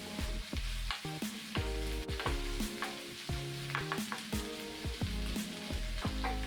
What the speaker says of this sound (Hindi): और इन अनियंस को हमें कुक करना है, भूनना है जब तक इनका जो कलर है वो थोड़ा सा ब्राउन ना हो जाए।